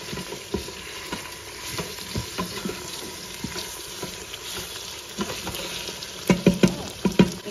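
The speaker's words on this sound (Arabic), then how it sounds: "كيفما شفتو البنات من بعد دابا ما حركتها مزيان تقلات ليا" Tomato paste and ground tomato fry in a pot for meat kabsa, with a soft continuous sizzle and a spoon scraping and stirring in irregular taps that grow louder near the end.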